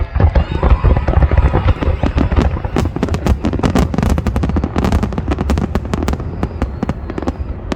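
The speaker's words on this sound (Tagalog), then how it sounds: "Fireworks na." Dense, rapid crackling and popping of New Year fireworks exploding at a festival in Abu Dhabi, loud and continuous, with a low rumble and faint voices underneath.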